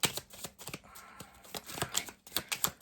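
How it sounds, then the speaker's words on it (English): A deck of playing cards shuffled by hand, a rapid crisp riffle of flicking cards with quick taps and snaps in uneven bursts, close and fairly quiet, without speech. "So one more shuffle."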